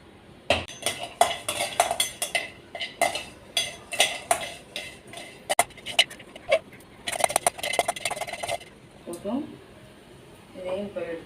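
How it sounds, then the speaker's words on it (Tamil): Red chillies dry-roasting in a pan for idli podi, with a spatula stirring and scraping through them in a quick run of metallic clinks and scrapes. A brief voice is heard near the end. "மிளகா கொஞ்சம் நல்லா வறுப்படட்டும்."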